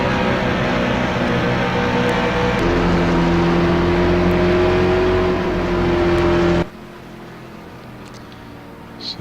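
A race car engine in a Pro Cup racing game at Richmond roars loud and steady with rising harmonic tones as it pulls away from pit lane, then cuts abruptly to a quieter drone in the final seconds.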